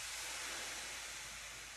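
A steam iron hisses steadily while fusing wool appliqué under a towel, a soft continuous breathy spray heard alone with no talking.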